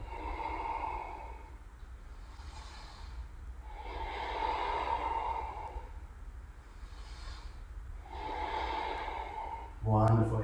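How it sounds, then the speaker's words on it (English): Slow, deep breaths drawn during a dynamic yoga sequence, long airy inhales and exhales repeating in a steady cycle, close and soft, ending with a brief louder sound at the close. "Breathing deeply here,"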